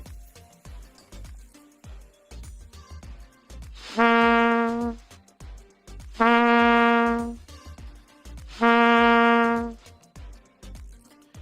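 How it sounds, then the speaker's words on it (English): Trumpet air attacks on low C: three sustained, breathy-edged notes, each about a second long and evenly spaced, loud and close against a quiet background of faint taps. "for low C, let's do some air attacks"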